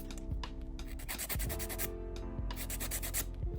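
A nail file rasps back and forth across a Gel-X press-on nail tip, a close, steady scratchy rubbing in quick repeated strokes with no talk.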